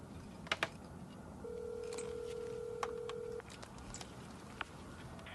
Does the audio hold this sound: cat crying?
no